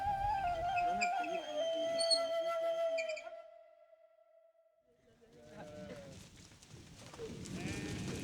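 Sheep and goats bleat repeatedly at a desert watering place in Sudan, a close herd calling in overlapping wavering cries, fading into a quiet stretch before renewed bleating and livestock commotion rise again.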